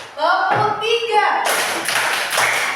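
Children in a classroom concentration game clap together on a teacher's count, a loud burst of group clapping after a stretch of adult speech.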